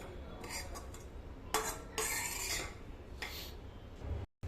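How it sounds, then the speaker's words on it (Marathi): Golden-red roasted grated coconut scraped out of a kadhai into a bowl with a spoon: a series of close, dry rasping scrapes and scoops in uneven bursts, with no talking. "खोबरं छान भाजून झालं सारखं कलर आला आहे लाल असा आता मी हे एका भांड्यात काढून घेते"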